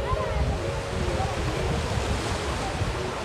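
Surf rolls in steadily at Nagaon beach in Alibag at high tide, a continuous broad wash of waves with wind rumbling across the microphone throughout.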